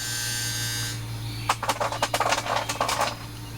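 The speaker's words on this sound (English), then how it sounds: "Ice machine, more ice." An ice machine at a campsite dispenses ice: a steady mechanical hum gives way to a rapid, rattling clatter of cubes dropping for about two seconds, close and fairly loud.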